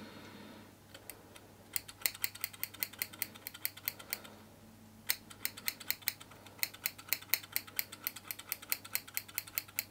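Small scissors snipping stray hairs beneath a moustache, close up, as a long run of quick crisp clicks with a brief pause midway, fairly faint and without talk.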